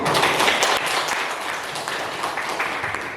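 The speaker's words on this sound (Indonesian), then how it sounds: "tepuk tangan untuk kita" Students in a grade-9 classroom clap together in a short burst of dense applause that is strongest at the start and then settles into a steady patter.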